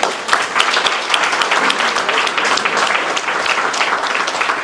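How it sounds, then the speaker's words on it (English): Audience applause at a city State of the City address, steady dense clapping from a crowd filling the whole stretch without speech. "So let's definitely clap for that one."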